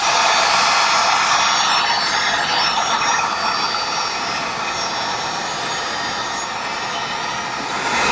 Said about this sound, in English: I'm just going to go on high here for a little bit, carefully not to melt the Panther Claw